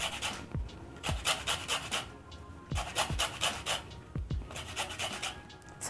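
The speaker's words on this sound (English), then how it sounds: "So I finished grating zest of 2 lemons." Lemon zest being grated for poppy seed cupcakes, a soft dry rasping that repeats in quick strokes close to the ear, with a few sharper scrapes in between.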